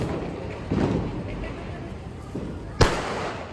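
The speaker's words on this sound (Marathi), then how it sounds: "आणि इथे लोक फटाके फोडतात." A single Diwali firecracker bursts with a sharp bang partway through, amid a murmur of voices and background crowd noise on Lakshmi Puja night.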